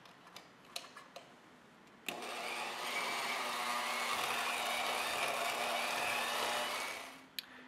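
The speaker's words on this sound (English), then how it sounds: "we're going to do that with a simple egg beater mixer" An electric egg beater mixer whirs through casting investment plaster. A few light taps and clicks come first, then the motor starts abruptly and runs with a steady loud buzzing drone for about five seconds before cutting off.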